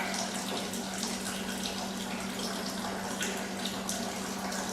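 Unfiltered tap water runs from a faucet in a steady, even rush of moderate loudness, continuous and unbroken with no voices.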